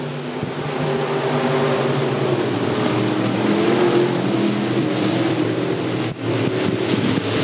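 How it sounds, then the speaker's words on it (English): Sport mod race cars roar together in a dirt track heat race at Thunder Hill, a continuous dense engine din with wind buffeting and a brief dip near the end. "Green flag comes out from Tim, and we're racing."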